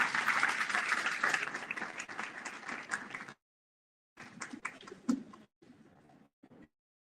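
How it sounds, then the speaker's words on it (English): Audience applause at a community hearing in Southaven, Mississippi rises as a dense round of clapping, then cuts out and returns in choppy, fainter fragments. "Please join me in giving a round of applause"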